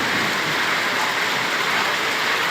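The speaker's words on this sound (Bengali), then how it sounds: "এই মুহূর্তে রংপুরের খবর, খুবই ভয়াবহ বৃষ্টি হচ্ছে।" Heavy rain pours down in Rangpur as a dense, continuous, loud broadband hiss, with no individual drops or voices standing out.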